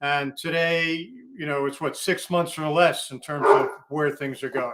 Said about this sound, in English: you can hear the dog in the background.